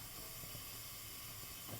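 Salted water boils in a pan on the stove, a steady faint hiss with soft low bubbling throughout the short stretch, no voices.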